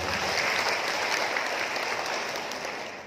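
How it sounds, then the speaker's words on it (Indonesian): A roomful of posyandu health cadres applauds at a district capacity-building event in Pemalang, a dense and even burst of clapping that holds steady and then tapers off. "Tepuk tangan untuk kita semuanya."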